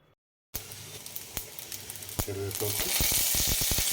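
Mustard and fenugreek seeds hit hot oil for a raw tamarind pulusu, bursting into a loud, steady sizzle with sharp popping crackles that grows denser toward the end.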